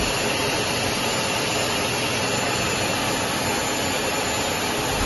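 A fighter jet engine roars during a joint drill with a Russian Sukhoi, a loud, steady broadband rumble that holds unbroken for the whole stretch with no talk.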